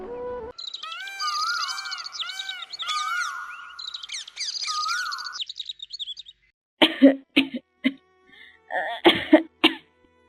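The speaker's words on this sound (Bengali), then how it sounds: "দাদি তোমার কাশিটা বড্ড বেড়েছে" An elderly woman, a grandmother in a cartoon, coughs in a cluster of harsh, separate bursts after a stretch of bright bird chirping and warbling. The coughs stand alone and fairly close, with short silences between them.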